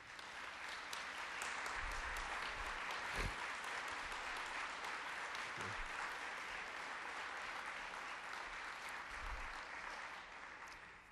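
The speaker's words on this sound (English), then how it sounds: "get a round of applause for them" Awards-ceremony audience applauding sponsors, a broad sustained clapping that swells early and holds evenly for about ten seconds, distant in a large hall, with scattered louder claps.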